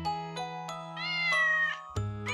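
A lost kitten in an AI-animated kids story meows several times, clear and close, with drawn-out plaintive cries and no talking over them.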